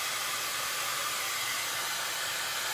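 A hair dryer runs steadily on a craft piece, giving a close, even, loud blowing whoosh with no pauses and no talk.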